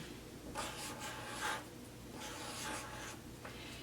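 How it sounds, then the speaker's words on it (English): Pen or pencil writing a sewing-pattern measurement on paper, several short scratchy strokes close to the microphone in a quiet room. "So I'm going to write that down."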